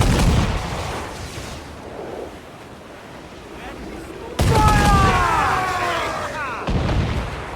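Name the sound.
ship cannon fire in video game Assassin's Creed IV Black Flag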